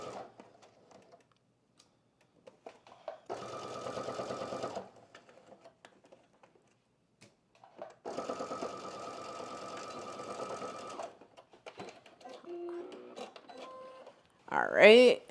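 Domestic sewing machine stitching around the neck edge of a spring Juliette top (McCall's 8386), two bursts of steady mechanical whirring a few seconds each, separated by quiet pauses with light handling noises.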